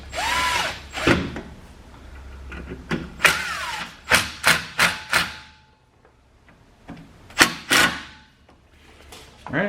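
An impact driver fitted with a number 3 Phillips bit drives a screw during a rear brake pad and rotor replacement, firing in loud, close bursts: a long run, then several short rapid hammering pulses, with pauses between.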